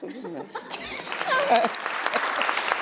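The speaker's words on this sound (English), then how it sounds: "Give her a little applause" Applause breaks out at a New York State Senate event, with clapping swelling after a brief spoken word. Light laughter and a voice mix in with the crowd noise.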